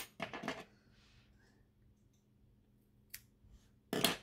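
Scissors snipping off excess yarn after weaving in the ends of a crocheted pumpkin turtle, heard as a few short, close clicks and snips, the last one louder, in a quiet room.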